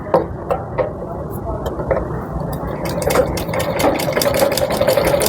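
A sewing machine stitching a blouse hem, starting as a close mechanical whir that turns into a steadier running hum with rapid needle ticks, while someone talks over it.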